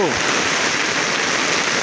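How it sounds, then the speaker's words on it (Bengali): Steady rain falls on a hilly area of Sylhet, heard as a continuous broadband hiss of water with no breaks, close and fairly loud throughout. "বৃষ্টি বাদলের দিন তো বৃষ্টি হবে"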